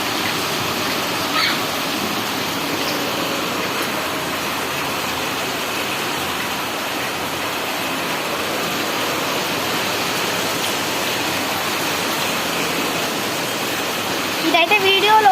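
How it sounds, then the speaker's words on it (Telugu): Heavy rain pours down in a steady, dense hiss that stays loud and unbroken throughout, with a slight swell near the end. "చాలా పెద్దగా వస్తుంది వర్షం అయితే."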